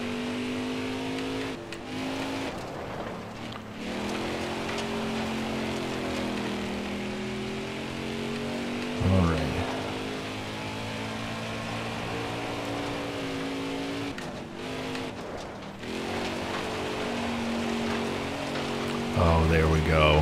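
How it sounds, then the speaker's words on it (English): A NASCAR race car engine in the NASCAR Heat 4 video game drones steadily, pitch rising and falling through gear changes and corners, with a few brief sharp shifts and rain-like hiss underneath. "Man, that engine is humming."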